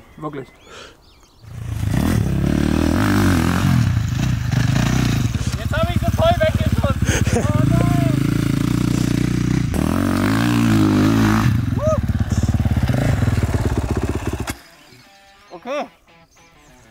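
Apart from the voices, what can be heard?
motocross motorcycle engine revving on track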